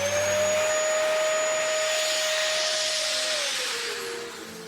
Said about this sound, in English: You slide one of the legs of the tights over the nozzle of the hoover.